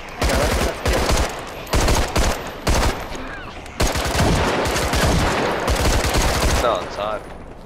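Bursts of automatic gunfire from the zombie survival video game Contagion, several loud rapid volleys separated by brief pauses, with a longer sustained stretch of shooting near the middle.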